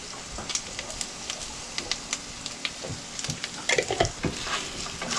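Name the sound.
stirring and mixing frying food in a pan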